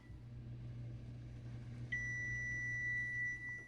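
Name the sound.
kitchen timer being set, beeping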